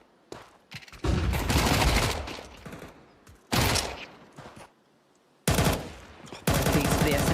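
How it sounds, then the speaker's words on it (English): Submachine gun fire in a competitive ranked shooter video game, loud rapid bursts of automatic shots in several long volleys separated by short pauses, with no talking. "These are the SMGs."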